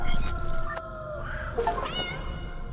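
A small cat, a former Solarian transformed into a kitten in the video game Nine Sols, meows in a few drawn-out, wavering cries over a low background rumble, moderately loud and close.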